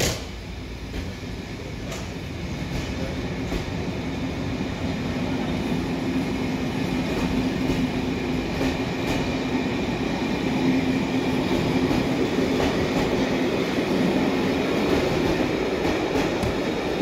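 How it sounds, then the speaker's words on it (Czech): A train departing Prague-Vršovice station rumbles steadily along the rails with a constant low drone and faint clatter, continuous throughout without any voices. "Prosím, ukončete nástup, vlak je připraven k odjezdu."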